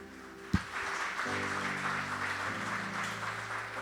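Congregation applauding the Lord during a church service, a steady, dense wash of clapping that carries over sustained keyboard or organ tones, with one sharp knock near the start.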